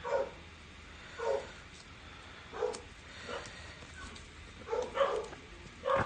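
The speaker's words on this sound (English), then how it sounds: "both dogs are barking and going crazy" Two dogs bark in short separate bursts spaced a second or so apart, moderately distant and indoors, with a quiet hum between the barks.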